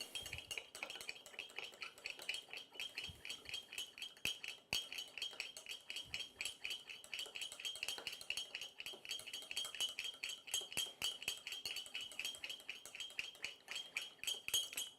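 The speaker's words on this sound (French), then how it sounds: "je mélange pendant au moins 15 ou 20 secondes" A vinaigrette of half a lemon's juice, two tablespoons of olive oil and salt is whisked briskly in a bowl, producing rapid, steady metallic clinking that runs continuously for about fifteen seconds.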